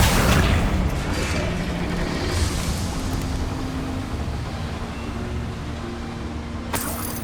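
A Confringo spell blast rumbling through a goblin mine in Hogwarts Legacy, a loud, sustained, low booming roar that slowly fades, with a sharp crack near the end.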